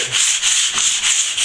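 Sandpaper rubbed by hand over plasterboard joins, a steady loud scratchy hiss in repeated back-and-forth strokes, close up with no talking.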